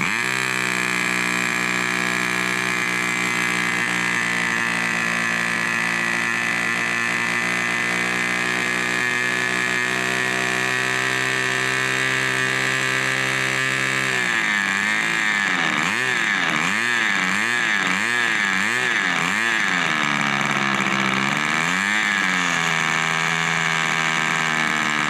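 A model aircraft glow engine runs continuously at a steady, buzzing pitch, loud and close, then begins surging and wavering rhythmically in speed partway through, with no talking.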